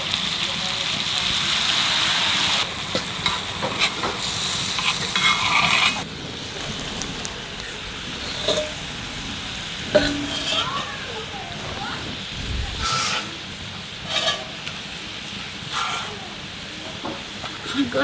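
Tiger prawns from Digha cook in a covered pan with a little water, giving a loud bubbling sizzle at first that drops to a quieter simmer, with scattered clinks and a voice talking over it.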